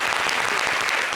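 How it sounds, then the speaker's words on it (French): Studio audience applauding a special guest on a French-language television talk show, a brief, dense and steady burst of clapping from many hands. "Merci d'applaudir dans notre invité spécial."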